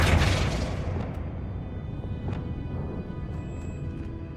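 A Flipendo spell in Hogwarts Legacy lands with a deep, booming blast that starts loud and decays into a rumbling tail, followed by a few faint crackles and pops.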